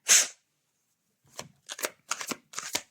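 Playing cards riffled once in a short close burst, then shuffled again in several quick crisp bursts after a pause, with no talking.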